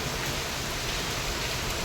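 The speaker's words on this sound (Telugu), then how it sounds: "చూడండి ఎంత పెద్ద వర్షం పడుతుందో" Dense, heavy April rain pours down in Hyderabad in a continuous loud roar of hiss, with no voices or other sounds.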